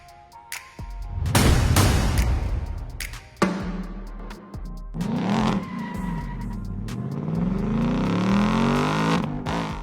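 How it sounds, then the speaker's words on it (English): A Ford Mustang S650 V8 engine revs sharply a few times, then tires squeal loudly as the car accelerates, close and with no talking. "It features the sound of a V8 engine revving a few times, followed by the noise of tires squealing"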